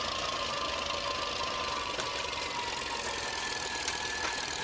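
A Nuffield or Fordson tractor engine runs steadily during hay carting in a 1966 field, giving a constant mid-pitched knocking drone with faint whine, close and unbroken, with no voices.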